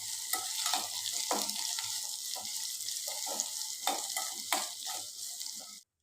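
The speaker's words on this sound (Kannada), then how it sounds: "ಇವಾಗ ಕಟ್ ಮಾಡಿದ ಹಸಿಮೆಣಸಿನ್ಕಾಯಿ ಒಂದು 3-4, ಸ್ವಲ್ಪ ಕರಿಬೇವಿನ ಸೊಪ್ಪು ಹಾಕ್ಕೊಂಡು ಈರುಳ್ಳಿದು ಹಸಿ ವಾಸನೆ ಹೋಗೋ ತನಕ ಚೆನ್ನಾಗಿ ಫ್ರೈ ಮಾಡ್ಕೋಬೇಕು." Sliced onions, chopped green chillies and curry leaves fry in hot oil for a Coorg-style dry fish curry, giving a steady close sizzle broken by repeated scraping stirs of a spatula against the pan.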